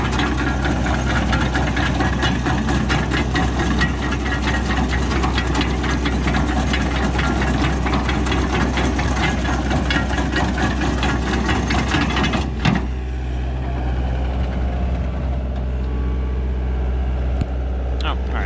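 A petrol power rake runs at a constant, loud, droning pitch for most of the clip, with a rough mechanical chatter. Near the end it drops to a quieter, steadier idle.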